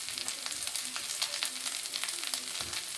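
Rice frying in a pan for khichuri with green chilli added, a quiet steady sizzle with soft crackles and light stirring scrapes, close and without voices.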